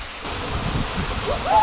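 A cannonball jump into a pool below a Corsican waterfall, a brief heavy splash and surge of water over the constant rushing of the cascade.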